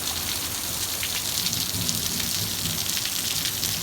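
Steady summer storm rain pouring down in the Mojave Desert, a constant hiss of drops striking surfaces with no voices, fairly close and even in level.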